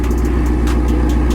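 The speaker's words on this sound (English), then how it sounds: "Oh, that active exhaust." A high-horsepower car's active exhaust roars close by at a track event, a deep, heavy engine drone with throaty low-end pulsing and a few brief bursts of higher noise.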